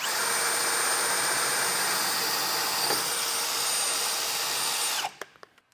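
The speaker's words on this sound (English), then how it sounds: "Now we're going to take a 1/2-inch drill bit." A power drill with a 1/2-inch bit whines steadily and loudly for about five seconds, grinding through a steel truck frame rail, then cuts off abruptly with a few faint clicks after.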